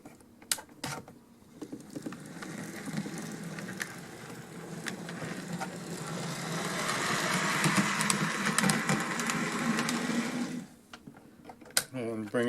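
A small live steam B&O tea kettle model locomotive with freshly cleaned wheels runs in reverse, giving a steady whirring, rattling chuff with fine clicking, medium loud and nearby for several seconds before it trails off.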